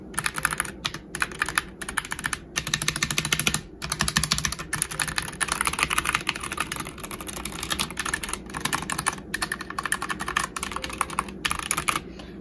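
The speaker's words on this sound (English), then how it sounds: "there's the sound test for the SteelSeries Apex Pro TKL" Steady typing on a SteelSeries Apex Pro TKL mechanical keyboard, fast clacking keystrokes close up with a few brief pauses, no voices.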